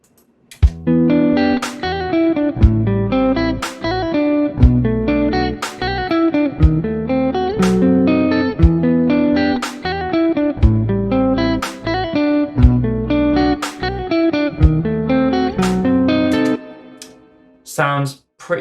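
Programmed drum beat in a home recording studio jam track, kick on beat 1 and snare on beat 3, looping steadily over sustained tonal backing for several bars, loud and upfront before ending with a few sparse hits.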